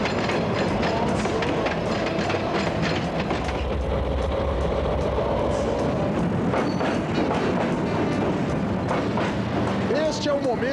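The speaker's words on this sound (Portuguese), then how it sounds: "A locomotiva está chegando na frente" A long freight train of about 80 wagons rumbles onto a bridge deep in Atlantic forest in Paraná, a continuous heavy roar with rattling undertones filling the whole stretch, close and loud, with faint voices now and then.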